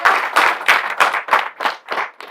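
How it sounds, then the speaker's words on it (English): An audience gives a round of applause, a sparse pattern of loud, rhythmic clapping, close and without talk. "How about another round of applause for Kristen?"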